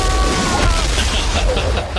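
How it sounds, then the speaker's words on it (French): A car explosion from the 1995 film Mortal Kombat, a dense, loud roaring boom sustained across the whole moment with crackling debris on top and no pause. "Oh, et l'explosion,"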